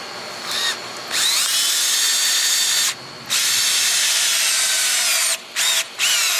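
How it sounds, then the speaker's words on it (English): A cordless power tool whirs in several loud, close bursts, tightening a T-bolt clamp on a turbo intake pipe of an L5P Duramax diesel, with brief pauses between runs. "we can go ahead and tighten that T-bolt clamp"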